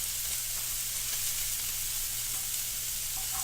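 Steak sizzling in a pan, a steady, even hiss of frying that holds at the same level throughout with a low hum beneath, no talking.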